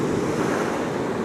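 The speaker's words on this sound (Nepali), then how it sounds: "समुद्रको छाल" Sea surf rolling onto a beach in Cyprus at sunset, a steady broad wash of breaking water with some wind rumble, continuous and fairly close with no voices.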